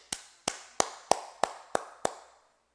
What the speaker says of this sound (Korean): 박수 치시죠.